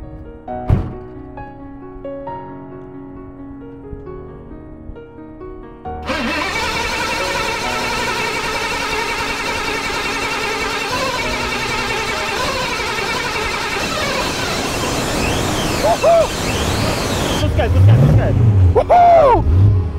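A Pontiac GTO cranks and catches after a few seconds of quiet, then runs at a loud steady idle before revving harder toward the end, with voices heard partway through.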